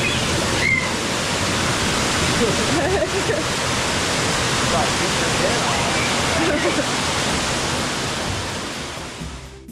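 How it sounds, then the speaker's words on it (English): Steady roaring rush of falling water, loud and close, filling the whole clip before easing slightly at the end. "you're gonna go through another waterfall"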